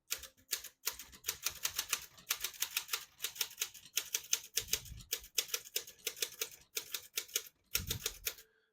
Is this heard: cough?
no